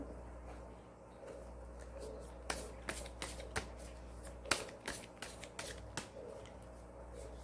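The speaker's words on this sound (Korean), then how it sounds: "우리 이미지 카드로 좋은 카드 한번 뽑아볼게요" Tarot image cards are shuffled close by in a quiet room, a series of soft, crisp riffles and slaps in an uneven rhythm, with no talking.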